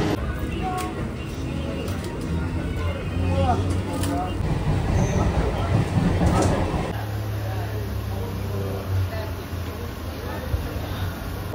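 A steady rumble and rattle fills the cabin of the moving Howrah–Puri Vande Bharat Express, with people talking nearby over the constant hum of the ride.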